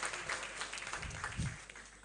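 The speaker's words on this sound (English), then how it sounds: "let's give Jubril a round of applause for that." Audience at a quarterly technical meeting of finance and accounts directors in Lagos gives a round of applause, a faint, steady patter of many hands clapping in the room.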